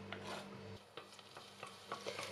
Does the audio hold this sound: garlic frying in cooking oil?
yes